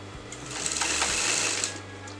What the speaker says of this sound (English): I'm going to sew it on top